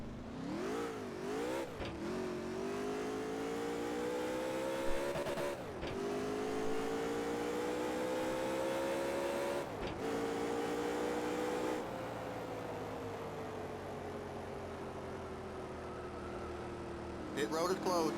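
Race car engines in Nascar Racing 4 at New Hampshire drone steadily for the whole stretch, pitch climbing and dropping through gear changes, with engines passing close by; speech runs over the engine roar.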